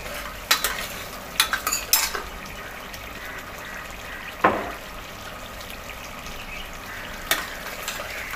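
Mutton roasting in a pan with homemade garam masala, a steady close sizzle broken by sharp metal clinks and scrapes of a spoon against the pan, first in a quick cluster and then spaced out, no voices.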